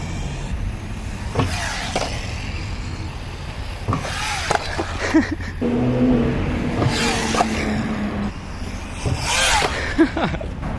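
A TLR Typhon Grom brushless RC car drives in bursts, its high electric whine rising and falling with several quick passes and accelerations against outdoor background noise.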